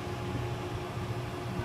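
A homemade pfSense router built from laptop parts runs its cooling fan, a steady, close whirring drone with a broadband hiss and a low hum, with no pauses.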